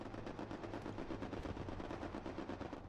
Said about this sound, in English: managed to dodge the strafe run